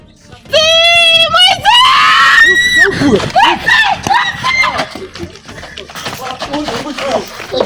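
Loud, sustained screaming from several voices rises and wavers, then breaks into excited shouting and chatter close by.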